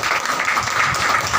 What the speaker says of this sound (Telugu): Give clap.